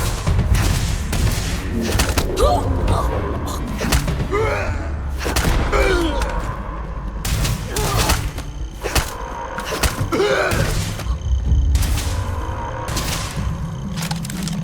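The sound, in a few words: EM rifle fire in video game Starfield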